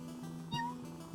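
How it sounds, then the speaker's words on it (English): A cat purrs as it is petted in the pixel-art video game Ikenfell, a soft steady game sound effect with a brief meow-like chirp partway through and another near the end. "Purring relaxes you."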